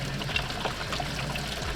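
Hot water runs steadily from a newly hooked-up tap in a house, a continuous close splashing and trickling stream that stays even throughout, with no talking.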